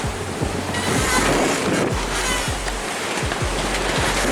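Heavy seawater surges across the cockpit of the sailboat WildChild in rough conditions, a loud continuous rushing wash with repeated low thuds as waves hit, under steady wind roar.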